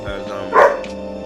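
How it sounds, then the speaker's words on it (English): A single sharp dog bark stands out over a person talking, close and fairly loud, with a quieter yip just after. "Please ignore barking, Max."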